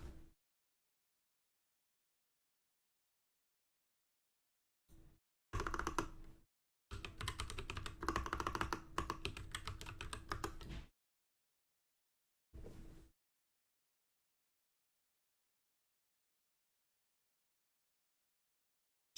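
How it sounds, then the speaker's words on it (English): A computer keyboard is typed on in short separate bursts of rapid key clicks, close and clear, with long silent gaps between the bursts. "Keyboard"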